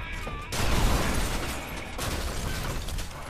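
Dynamite blowing up a floor in Red Faction Guerrilla, a loud, dense burst of explosive rumble and debris noise that kicks in abruptly and rolls on steadily, with a brief second surge partway through.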